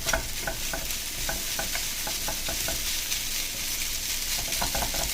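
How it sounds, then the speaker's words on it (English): Vegetable lo mein noodles are tossed in a hot wok with tongs, giving a steady loud hiss of frying broken by a run of quick clicks and scrapes. "I suck at using the wok, so I'm using tongs"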